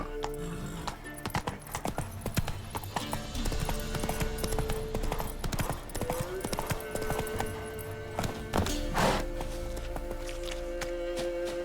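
Horse hooves clip-clop at a steady trot in The Witcher 3, with a brief whinny partway through and game ambience underneath, close and continuous.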